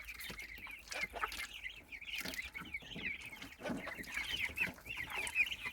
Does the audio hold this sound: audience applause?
no